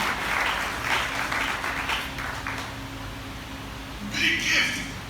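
A church congregation bursts into applause and cheering, a loud rolling crowd clap heard under and alongside a preacher's raised voice, with a bright swell of clapping near the end.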